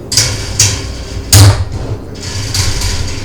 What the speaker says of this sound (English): 7/16 wrench and just cheap old pliers to hold on to that. I'm going to give that thing a couple turns